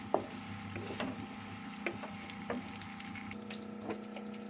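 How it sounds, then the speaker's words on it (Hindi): Onions fry and brown in a pan for spinach and potato sabzi, a soft, quiet sizzle with occasional sharp pops and light taps of a spoon, close but faint under a low steady hum. "प्याज हमारा ब्राउन हो रहा है"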